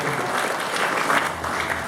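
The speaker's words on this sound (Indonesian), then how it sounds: "Tepuk tangan untuk pemenangnya Indonesia." An audience at a character-building youth event applauds steadily and loudly, a dense wash of clapping sustained for the whole stretch without pause.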